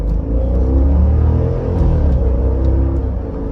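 A 2017 Jeep Grand Cherokee SRT accelerating hard, its engine roaring loud and steady with deep rumbling power throughout, heard close from inside the vehicle with no talking.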